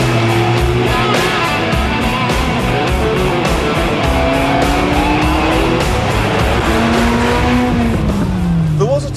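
A Ford Escort Cosworth is driven fast in the UAE, its engine roaring loud and near with rising and falling revs and tire squeal.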